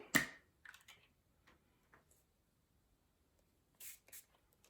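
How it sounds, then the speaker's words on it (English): A quick spray burst from a spray bottle onto a makeup brush opens, followed by a few soft taps, quiet gaps, then two more short spritzes near the end. "I'm gonna spray it with the spray."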